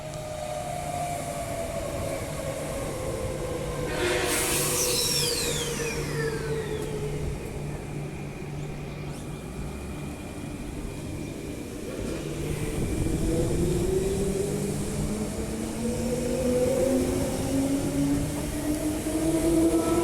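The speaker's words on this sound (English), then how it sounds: "train right there." A train rumbles continuously with rising motor tones as it pulls away from Beckenham Station, departing for Armadale, with a brief high squeal of wheels partway through.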